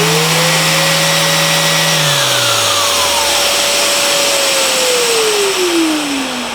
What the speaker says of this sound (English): When I turn the sander on, the dust extractor won't turn on for a little bit